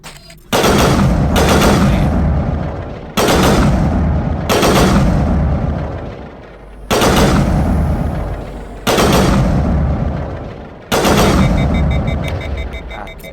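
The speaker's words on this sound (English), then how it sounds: "just use this rifle" Rifle gunfire in the sci-fi shooter Mass Effect, fired in five loud, sharp bursts of rapid shots, each separated by a brief pause, close and dominant with no talk over them.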